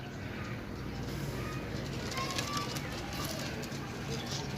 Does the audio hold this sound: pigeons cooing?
yes